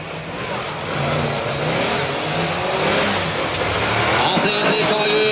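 A race car at a monster race event roars loudly and continuously as it pulls away from the start, its engine note rising and revving, with a crowd and commentator noise blending into the din.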